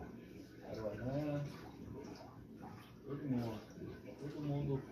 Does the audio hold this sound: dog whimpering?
yes